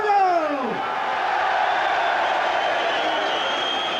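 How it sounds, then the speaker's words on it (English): Crowd applause and cheering at a 1987 heavyweight boxing match after the fight, a dense, sustained roar filling the arena from start to end; a high sliding whistle or shout cuts through at the very start. "So the final applause then for Bruno"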